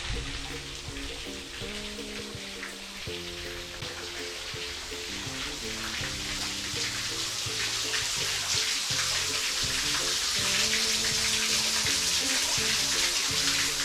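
Water runs in a waterfall inside a cave in the Wichita Mountains, a loud, steady rushing wash that grows slightly stronger over time, with a repeating musical tune playing underneath.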